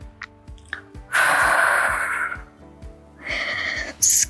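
Deep breaths during a mat Pilates core warm-up, a long audible inhale and exhale close to the listener, followed by a second breath, over quiet background music.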